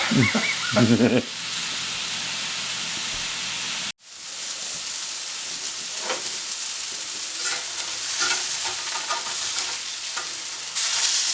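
Italian sausage patties fry in a pan with a continuous crackling sizzle, loud and close, with scattered pops and a brief sharp cut in the sound early on; no talking.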